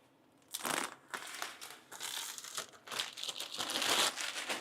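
Protective film and packaging being peeled and crinkled while unboxing an Anycubic Photon P1 resin 3D printer, a close series of rustling, crackling pulls that swell and fade without speech.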